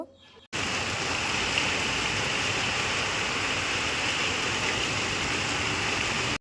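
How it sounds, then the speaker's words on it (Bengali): Heavy rain pours down steadily outdoors, a loud, dense wash of drops that starts abruptly after a brief quiet moment and continues unbroken to the end. "আর বিরাট জোরে জোরে বৃষ্টি পড়ছে"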